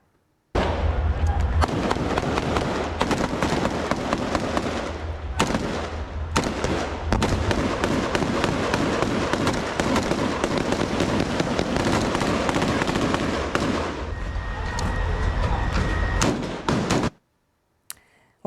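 Ground troops fire through buildings in Gaza, with loud rapid bursts of gunfire that run almost unbroken, close and sharp, echoing between walls before they stop abruptly.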